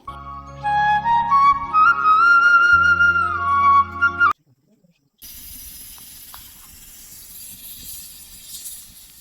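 A pressure cooker cooking dal lets out a loud, sharp steam whistle hiss, then goes quiet before a softer, lingering hiss returns; no talking over it.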